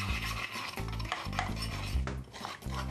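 A spoon scrapes and clinks against a bowl or measuring cup while mixing color-safe bleach powder with water into a paste, with repeated close rubbing strokes over a steady low background hum.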